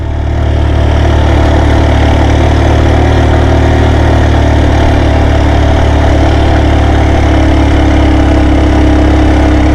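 A motorcycle climbing a hilly mountain road in second gear, its engine giving a loud, steady low drone with constant rumble and no letup, no voices over it.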